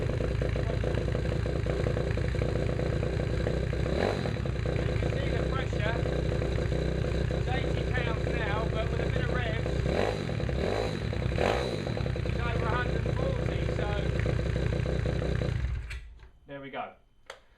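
A 4-valve motorcycle engine runs after a kickstart, holding a steady loud idle for about sixteen seconds with slight rises in revs before it cuts out abruptly near the end, leaving a few faint clicks.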